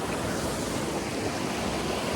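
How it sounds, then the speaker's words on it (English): Rushing water from a double waterfall below a mountain campsite on Engineer Pass, a steady broadband roar with no breaks, heard alone. "Down there is a double waterfall."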